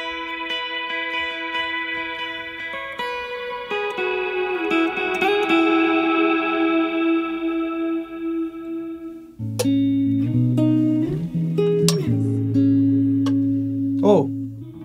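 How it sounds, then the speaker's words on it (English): Studio vocals soaked in heavy reverb hold long, sustained notes that shift pitch and trail into lingering washes, loud and upfront throughout. "Reverb, man."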